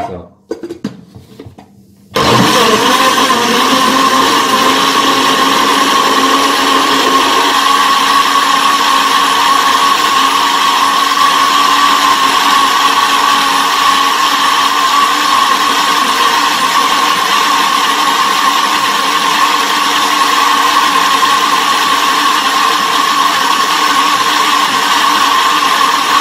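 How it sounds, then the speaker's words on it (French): An electric blender mixes a protein shake, starting after a brief clatter of handling and then running continuously with a loud, steady whir for over twenty seconds. "Je vais mettre ça dans mon mixeur."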